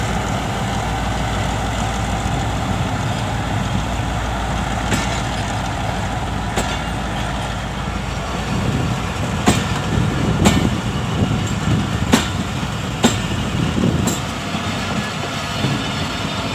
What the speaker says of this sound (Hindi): दोस्तों इस वक्त रवाना हो चुकी है मारवी एक्सप्रेस ट्रेन अपनी मंजिल हैदराबाद की तरफ